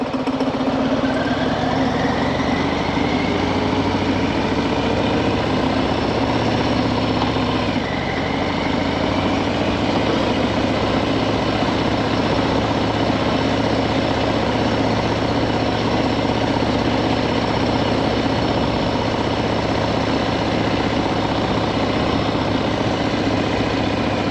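A Harley-Davidson motorcycle engine with a fault after handlebar rewiring idles loud and close, a steady low rumble that holds without break, with a slight lift in pitch partway through.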